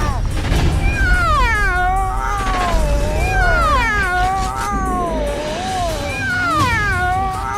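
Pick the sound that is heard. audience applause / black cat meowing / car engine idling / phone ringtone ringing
black cat meowing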